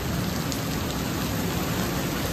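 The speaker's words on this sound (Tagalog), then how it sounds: "Grabe, lakas ng ulan." Heavy rain pours steadily in Bangkok, a dense, loud, unbroken roar of rain on surfaces with no voices.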